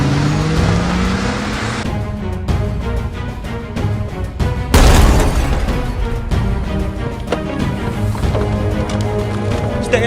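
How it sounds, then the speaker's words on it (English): A car roars loudly in a chaotic movie-style scene, its engine growling steadily with a sudden crash-like burst midway, swamped by dense action music and noise. "Get this car out of here!"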